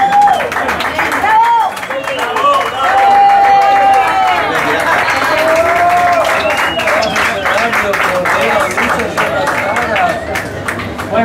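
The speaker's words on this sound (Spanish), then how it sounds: "Un aplauso" Audience applause at an underground live concert in Barcelona, a steady wash of clapping and crowd noise sustained throughout, with cheering voices and chatter mixed in.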